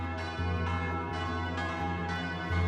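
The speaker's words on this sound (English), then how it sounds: "throughout the country church bells may ring" Church bells peal in a steady rhythm, strikes roughly every half second, loud and ringing with long overlapping resonance and no voices.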